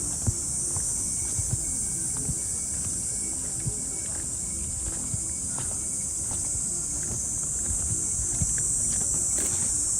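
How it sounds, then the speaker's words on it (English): Cicadas drone in a steady, high continuous buzz across the whole stretch, with scattered footsteps or clip-clop sounds beneath. "Cicadas are the sound that you're hearing there."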